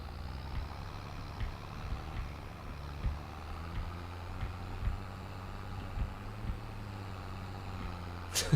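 A tractor engine runs steadily as the tractor slides around, a low rumbling drone with periodic soft thumps and a slight rise near the end, moderately quiet with no talking.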